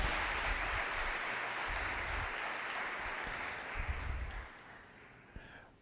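Church congregation at a worship service applauding, a broad steady wash of clapping that slowly thins and fades out near the end.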